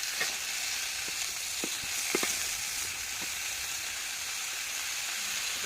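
Snake gourd and potato pieces stir-frying in a pan, a constant close hiss of frying with a handful of light spatula taps and knocks scattered through, then settling into steady sizzle.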